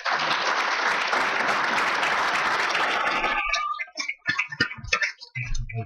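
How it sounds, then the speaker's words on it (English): Loud, dense applause from an audience fills the room for a few seconds, then breaks off into scattered claps and small knocks. "So please give a loud round of applause for Damien."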